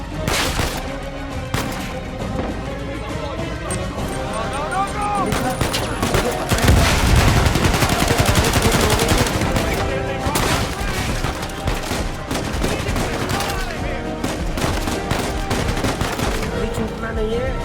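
Dense AK-47 gunfire fills a firefight in Uncharted 4: A Thief's End, with rapid automatic bursts and a heavier blast partway through. The shots are loud and close, and there is steady combat noise throughout.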